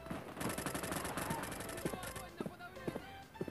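Rapid bursts of AK-12 automatic rifle fire in the online shooter Bullet Force, a loud rattling volley through the first two seconds, then scattered single shots and mechanical clicks.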